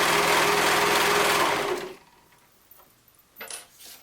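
A serger sewing clear elastic onto a dress strap runs loud and steady for about two seconds, then stops, followed by faint handling clicks.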